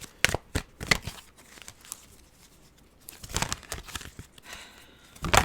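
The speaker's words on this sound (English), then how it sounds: "these cards are just shuffling so weird" Tarot cards shuffled by hand in short bursts of crisp riffling and papery crinkling, separated by brief pauses, close and fairly quiet with no talking.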